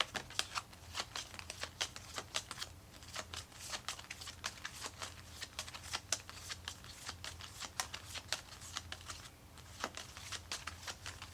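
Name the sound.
shuffling tarot cards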